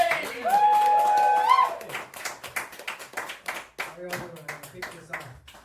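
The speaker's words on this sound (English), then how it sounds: "can you give me a big round of applause?" At a comedy night in County Kerry, the crowd applauds as a comedian is welcomed. A high whistle and cheering come first, then scattered, uneven clapping that gradually thins out.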